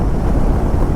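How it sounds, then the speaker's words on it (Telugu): Strong wind at Kanyakumari roars as a dense, steady buffeting rush filling the whole moment, loud and close, with no voices. "కన్యాకుమారిలో గాలి మాత్రం బీభత్సంగా వీస్తుంది"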